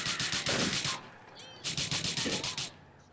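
Two rapid volleys of gunfire aimed at a fleeing vehicle in Grand Theft Auto IV, loud and close. Each burst lasts about a second, with a short pause between them and faint background noise around the shots.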